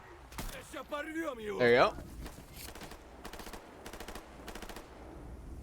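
Enemies fire guns in the S.T.A.L.K.E.R. GAMMA video game, with several short distant bursts of automatic fire spaced through the clip and someone talking near the start.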